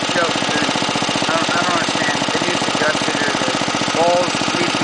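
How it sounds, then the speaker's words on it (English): Small engine on an old riding lawn mower chugging with a steady fast rough knocking pulse, loud and close throughout with no clear start or stop. "You gotta turn it over, put it on choke, and then take it on fast, and then start"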